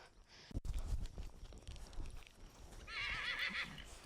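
A horse on a Kentucky farm whinnies in a loud wavering neigh near the end, with hoof clip-clop and a sharp knock early on, over steady outdoor background noise.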